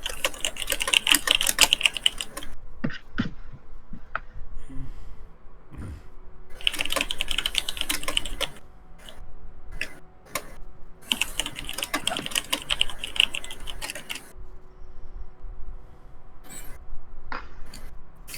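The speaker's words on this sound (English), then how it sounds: "start typing" Computer keyboard typing, bursts of rapid close key clicks separated by brief pauses and scattered single taps, loud and unaccompanied by speech.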